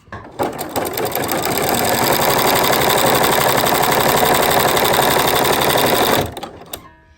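A sewing machine stitches straight lines across a denim quilt block, a loud, steady, close mechanical whir that runs evenly for about six seconds before winding down.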